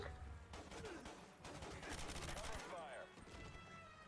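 Rapid rifle fire from an M14 in the Quantum of Solace shooter game crackles in a quick volley, fairly quiet and mixed with game ambience and brief vocal sounds.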